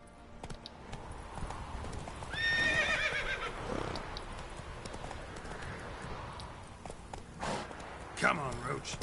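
The player's horse in the video game The Witcher 3 gallops with quick, clear clip-clopping hoofbeats and lets out a sharp neigh, all against a steady game soundscape.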